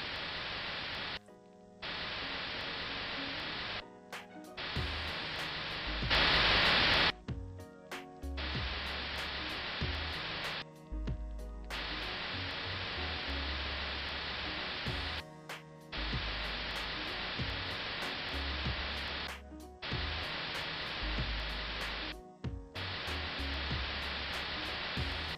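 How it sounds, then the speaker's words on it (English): Water sprayed onto a burning pallet fire in the VBS2 firefighting simulation, making a steady loud hiss of spray and steam that cuts out briefly several times. "when we apply water to a hot fire, steam is generated"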